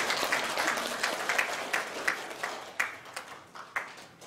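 Congregation applause at a Korean Presbyterian Sunday worship service, a steady wash of many hands clapping indoors, with a few louder sharp claps standing out near the end as it thins.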